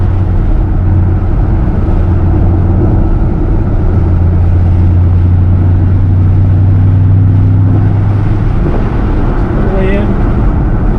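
A 2008 Ford Mustang Shelby GT500 on the NJMP Lightning Raceway, heard from inside the car as a loud, low engine drone that holds steady, then shifts near the end, with people talking over it.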